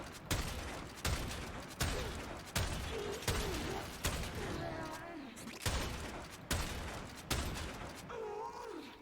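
In the game Warframe, the Vectis sniper rifle fires repeatedly in a steady rhythm of about a dozen sharp shots, each followed by a short mechanical reload, with faint electronic tones between some of them.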